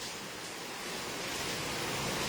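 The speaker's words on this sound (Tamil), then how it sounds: "அட மழை பெய்யுது" Heavy rain pours down outdoors in a dense, steady hiss that fills the whole span, slightly swelling toward the end, with no voices over it.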